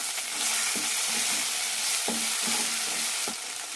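Okra pieces frying and being stirred in a pan for a curd curry, a constant sizzle broken by a few soft scraping strokes of a spatula, close and with no talking.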